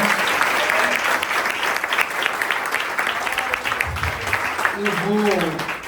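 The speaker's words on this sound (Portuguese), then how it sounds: "As palmas agradecem ao Senhor pela nossa irmã" Congregation applauding in a church during a communion service, a steady dense wash of clapping throughout with faint voices mixed in.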